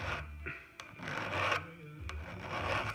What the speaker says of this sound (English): I just take my flat file and count passes.